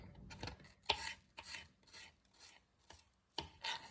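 A knife chops onion on a cutting board for a nacho topping, with about eight close, crisp strokes in an uneven rhythm and short pauses between them.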